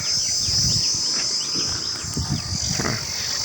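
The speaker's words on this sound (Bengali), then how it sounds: "একটা ঝিঝি পোকার আওয়াজ পাচ্ছেন" A continuous high-pitched cricket trill rings steadily throughout in a riverside village, with faint rustling and low background noise beneath it.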